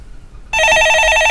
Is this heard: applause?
no